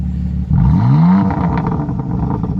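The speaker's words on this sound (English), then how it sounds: "Let's go ahead and do some rev time with Nicole." A BMW M4 Convertible is parked while its engine is revved once, close and loud, rising sharply then settling back to a rumbling idle.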